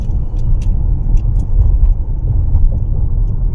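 A car driving across a long bridge over the sea toward Bet Dwarka in Gujarat, with steady road rumble and engine noise close and continuous throughout.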